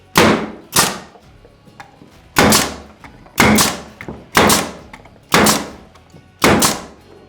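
A Stinger cap nailer drives roofing nails in a steady series of about seven sharp, loud pneumatic bangs, each with a short hissing decay, spaced roughly every second or so, with no talking.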